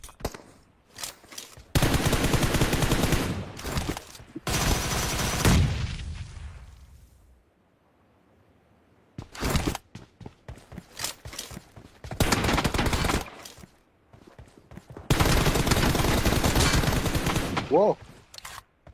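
Rapid automatic gunfire in the battle royale video game PUBG, loud sustained bursts broken by short pauses and scattered single shots, with a voice heard faintly at times.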